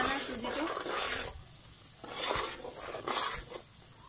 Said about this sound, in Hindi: अच्छे तरीके से चमचे से हमने इसे हिलाते रहना है सूजी को